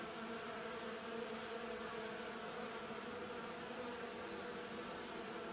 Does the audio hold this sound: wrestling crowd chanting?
no